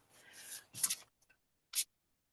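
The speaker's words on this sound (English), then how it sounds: "I'm going to shuffle and you just tell me when." A deck of cards is shuffled close by in a quiet room: a quick papery riffle and flutter, then a few soft taps and a brief final snap before silence.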